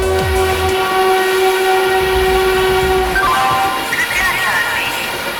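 A Mumbai local train rumbles steadily nearby with a long horn blast, wheels clattering on the rails as it passes.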